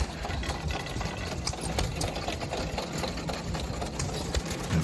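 A small stationary engine at a car show, running a water pump with a rapid, even chugging beat, moderately close and continuous with faint background bustle.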